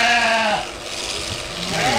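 Sheep bleat loudly and near on a shearing day at a farm, two long wavering calls at the start and a third rising at the end, with rough farmyard noise in between.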